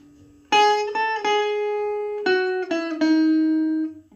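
A clean electric guitar tone through a Stranger C15 amplifier, a handful of bright single notes struck one after another and let ring, close and clear with no talk.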